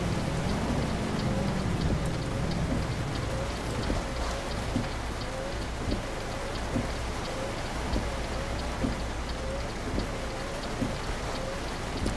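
Steady rain drums on a truck cab in Euro Truck Simulator 2, a dense continuous hiss with scattered heavier drops and a low rumble underneath, ongoing throughout without speech.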